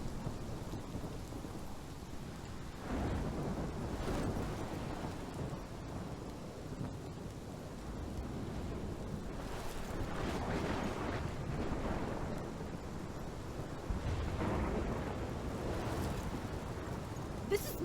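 A thunderstorm rages in the video game Life Is Strange, steady heavy rain with repeated deep rolling thunder rumbles swelling and fading, loud and continuous with no talk.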